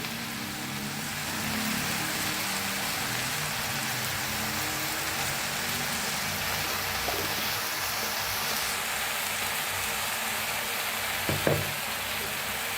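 Spring onion greens and vegetables frying in a full kadhai, giving a dense, even sizzle like steady rain, with a soft stirring scrape or two near the end.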